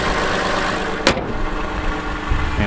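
A Lexus engine idles with a steady, loud mechanical hum heard up close under the open hood, broken by a sharp click about a third of the way in.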